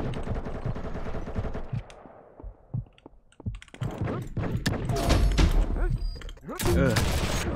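Rapid video-game gunfire with heavy recoil, dense bursts of shots crackling loud and close, thinning briefly midway before resuming in dense volleys, with a voice talking over parts of it.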